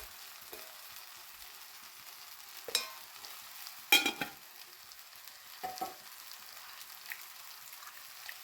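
Crab curry masala fries in a pan with turmeric and chili powder: a faint, steady sizzle with a few sharper clinks and scrapes of stirring.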